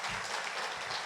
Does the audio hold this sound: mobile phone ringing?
no